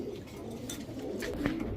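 A tournament high-flyer pigeon coos softly nearby, a low rolling call over a faint steady background hum.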